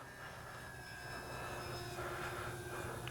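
An Avios 1600mm Twin Otter RC model plane in flight, its electric motors giving a steady, faint airborne drone with a thin whine that swells slightly, heard alone at a distance.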